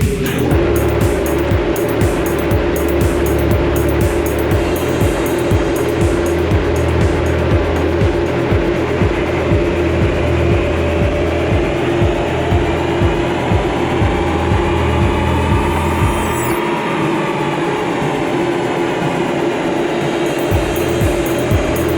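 A stock Subaru Forester 2.0 XT fitted with a freer-flowing catback exhaust drives under load, giving a steady loud engine and exhaust drone with a rising pitch before the low end drops away near the end.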